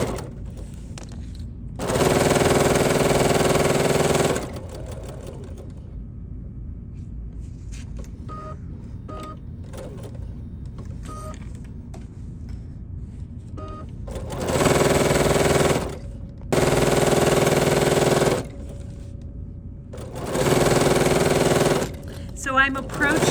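Sewing machine stitching a quilted pie-shaped table runner, running in four loud sustained bursts with pauses, the longest near the start and three more later, quieter handling sounds between.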